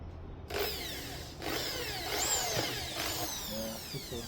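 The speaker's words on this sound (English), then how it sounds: "And ready for drilling." A power drill bores holes to mount hard saddlebags on a 2007 Harley Softail Heritage Classic, in three close, steady whirring bursts of about a second each, with brief pauses between them and no talk.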